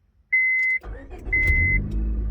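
A used Honda car with a remote-lock beep at the start, then its engine cranks and catches, settling into a steady, close idle with no talk.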